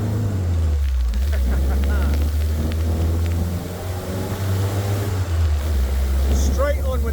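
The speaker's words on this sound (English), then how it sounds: "Hear the wheel slipping." A WW2 jeep labours as its wheel slips under power: a deep, steady engine drone with rough churning on top, continuous throughout, with someone talking over it.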